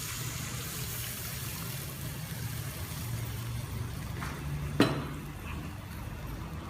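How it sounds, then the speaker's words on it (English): Water is poured into a pan of cooking potatoes, a soft running wash over a low background hum with one sharp clink of a vessel near the end. "add some water to this."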